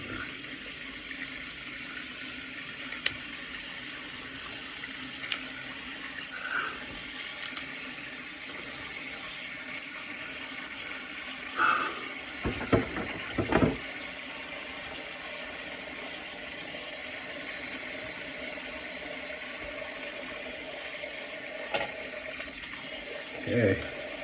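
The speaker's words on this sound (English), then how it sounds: "Some hot water going." Hot water runs steadily from a bathroom tap, a constant close hiss with occasional clinks and light handling knocks, no talking over it.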